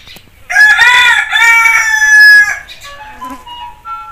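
An Aseel rooster crows once, loud and close, a long rising-and-holding call lasting about two seconds, followed by softer trailing notes and faint farmyard sounds.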